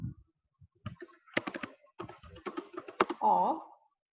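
Computer keyboard keys clatter in short irregular bursts as code is typed, fairly close, with scattered speech-like sounds mixed in.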